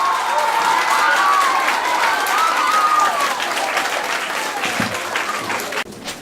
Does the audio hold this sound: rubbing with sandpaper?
no